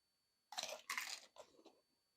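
Crunchy chewing of shrimp ceviche, a few close, crisp bites and chews in quick succession, fading toward the end, with no talk.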